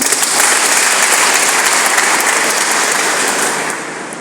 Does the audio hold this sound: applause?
yes